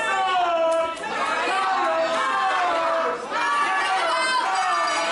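A wrestling crowd at a PowerSlam event fills the space with a steady roar of voices and cheering, while a commentator speaks over it.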